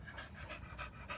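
A puppy pants quietly and close by in quick, rhythmic breaths that stay soft and even throughout the brief moment.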